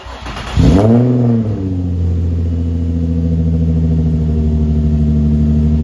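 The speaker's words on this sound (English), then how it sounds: "Cold start definitely sounds a bit louder. It sounds a bit more sharp" Nissan 350Z fitted with test pipes cold-starts: a sharp starter whir, a loud revving flare, then a settling, steady, raspy high idle that drones on close by without talk.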